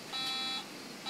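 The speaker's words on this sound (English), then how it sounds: "we can use the C button for it to beep because it has a piezo buzzer in the side of it" A piezo buzzer on the side of an Arduino-controlled Roomba driven by a Wii Nunchuck gives two short, faint electronic beeps close together, with a third starting at the end, over a quiet hum.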